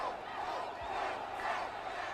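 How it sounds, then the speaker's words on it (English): Rugby stadium crowd during South Africa versus the New Zealand Cavaliers, a steady roar of shouting and cheering for the Springboks, loud and continuous with no commentary over it. "You can hear the crowd in the background shouting, encouraging the Springboks."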